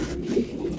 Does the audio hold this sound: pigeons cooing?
yes